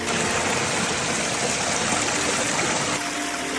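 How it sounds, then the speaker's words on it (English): Water flowing from a natural spring in Yosemite or Sequoia National Park, a steady close rushing splash that stays continuous and even throughout with no voices. "there is a natural spring, guys"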